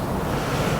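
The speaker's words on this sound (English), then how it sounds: "It's windy as all get up right now" Strong late-season wind buffeting the microphone outdoors in North Dakota, a loud, continuous broadband roar with no pauses or talking.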